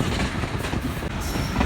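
Millat Express rolling into Malakwal Junction station, a continuous loud rumble of wheels and carriages with a steady dense roar close by, no voices.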